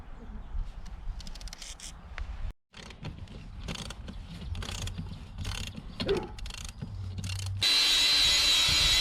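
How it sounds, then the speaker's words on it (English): Bolts being ratcheted out of the seat rails of a Toyota FJ seat in a fabrication workshop, a steady run of close metallic ratchet clicking and rubbing, with a brief pause and a loud hiss near the end. "Charlie, you want to rip those bolts out?"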